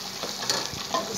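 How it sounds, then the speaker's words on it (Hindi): Chicken karhi fries hard in a pan over high heat, a steady close crackling sizzle with faint stirring scrapes throughout. "अब इसको भूनेंगे।"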